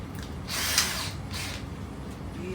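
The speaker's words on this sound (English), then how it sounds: "Again, I am going to pre-drill my screws." A power drill pre-drilling screw holes in wood whirs in two short bursts, the first longer and louder, the second briefer, with quiet room noise between and after.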